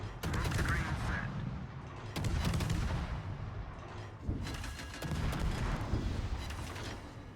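Naval guns fire in World of Warships aboard the destroyer Vampire II, with heavy booming salvos in several bursts and rolling rumble between them, loud and close.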